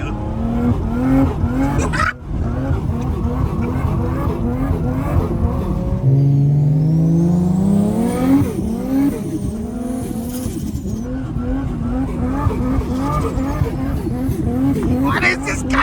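Nissan Skyline GTR being driven hard on snowy Arctic roads in Finland, its engine revving and rising through gears with tires squealing, close and loud, while people talk over it.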